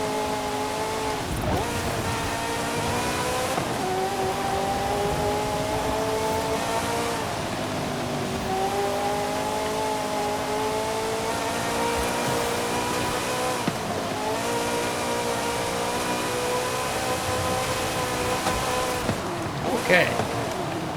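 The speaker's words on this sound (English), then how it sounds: "Hear the engine sound for a bit." Engine of a 1984 Ferrari 288 GTO driven in Forza Horizon 5 on a road course, a steady high-pitched turbocharged drone rising and falling through gear changes, with occasional tire noise and a voice talking over it.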